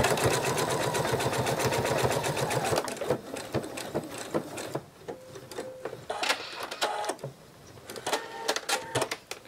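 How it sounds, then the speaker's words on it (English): A sewing machine top-stitches a penguin plush beak, running in a fast rattling burst for about three seconds, then stopping and giving way to scattered clicks and handling sounds. "So I'm just going to top sew along that line."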